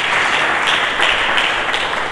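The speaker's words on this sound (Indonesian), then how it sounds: "Mari berikan tepuk tangan bagi Yesus" Congregation applauding during a church sermon, a loud, close, even roar of many people clapping together, steady for the whole stretch with no voices on top.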